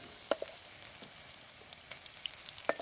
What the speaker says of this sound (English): I'm just going to fry this until it softens.